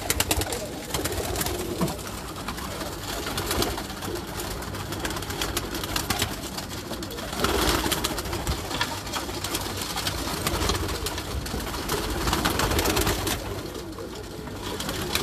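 Flock of well-bred rooftop pigeons cooing steadily in overlapping low, throaty calls, a constant murmur with occasional louder swells and no talk.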